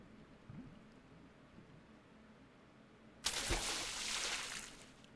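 Sudden splash and rushing water in a horror game, a loud broadband wash bursting in after a few seconds of quiet ambience and continuing steadily to the end.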